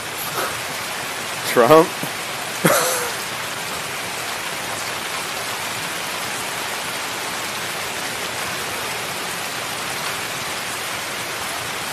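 Steady rain falls outdoors as a constant soft hiss, with a voice and a couple of brief knocks early on.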